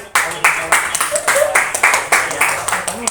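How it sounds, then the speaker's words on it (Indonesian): A classroom of students claps for their classmates, rhythmic loud hand claps repeating roughly every third of a second with voices talking underneath. "Ya, berikan tepuk tangan untuk temannya."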